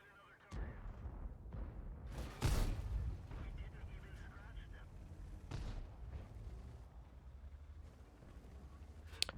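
In World of Tanks, a T54 fires its tank gun on the Serene Coast map: one heavy, booming shot near the middle that stands out from the quieter engine rumble and battle ambience around it.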